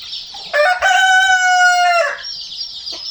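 A rooster in a village chicken coop lets out one loud, close crow of about a second and a half, with soft clucking from the hens before and after.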